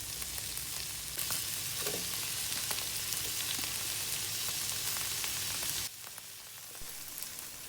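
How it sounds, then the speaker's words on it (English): Dried chilies, ginger, garlic and green onion stalks sauté in hot oil, a dense, steady sizzle with faint stirring scrapes that drops slightly in volume near the end. "Now we're gonna saute the dried chilies, ginger, garlic, and the green onion stalks."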